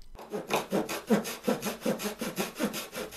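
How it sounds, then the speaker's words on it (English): A hacksaw blade epoxied into a wooden block cuts fret slots for a handmade banjo: close, steady back-and-forth rasping strokes, about eight in a quick even rhythm. "For cutting the fret slots, I epoxied a hacksaw blade into a block of wood"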